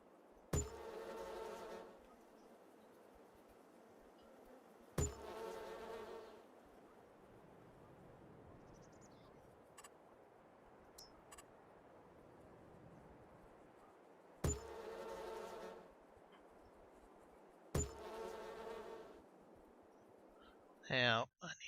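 Bees buzzing around beehives in Farming Simulator 22, a faint low hum broken by several short bursts of louder sound at spaced intervals, with a brief sharp noise near the end.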